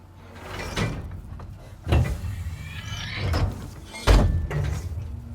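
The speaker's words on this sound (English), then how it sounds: "We can undo these doors now." Sliding doors unlock and open in the video game Alien Isolation, three separate mechanical whooshing slides spaced about two seconds apart, each with a low thud, loud and close with no talk.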